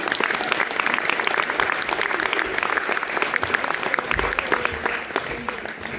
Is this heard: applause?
yes